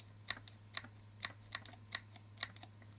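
Paddle shifters on an Xbox 360 wireless racing wheel being flicked without a real click, a regular series of about eight soft plasticky taps over a low steady hum, close and quiet with no voice.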